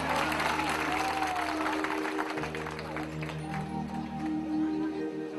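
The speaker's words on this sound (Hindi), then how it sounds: "तो इस बात के लिए ताली होनी चाहिए।" An audience applauds at a university lecture hall event, dense and sustained clapping throughout at a steady level.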